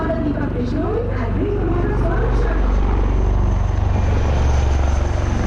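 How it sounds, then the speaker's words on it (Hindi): A helicopter in a Republic Day flypast over Rajpath, New Delhi, a steady loud rotor and engine drone held throughout with a broadcast commentator talking over it. "और राजपथ पर शानदार फ्लाई पास्ट भी देखने को मिला।"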